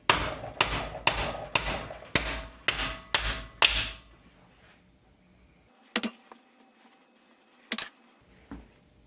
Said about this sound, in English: Let's beat on it in the vise and see what it looks like.